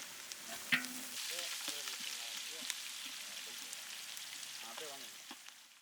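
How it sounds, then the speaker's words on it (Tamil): Onions, spices and ginger-garlic paste sizzle and crackle in hot oil with occasional stirring scrapes, a soft continuous frying hiss with faint voices in the background. "இஞ்சி பூண்டு பேஸ்ட்டு போட்டு நல்லா வதக்கணும் அந்த எண்ணெயிலேயே"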